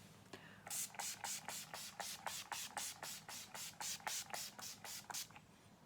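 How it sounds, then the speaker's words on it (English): All Nighter setting spray misted onto a face in about fourteen quick, evenly spaced hissing spritzes, close and clear over a quiet room. "I'm gonna go in with the All Nighter setting spray."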